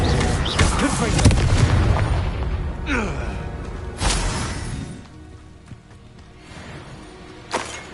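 Confringo spell blasts in the wizarding game Hogwarts Legacy: several loud, booming bursts, one heavy opening rumble, another blast midway and a sharper crack near the end, with fading debris noise between them.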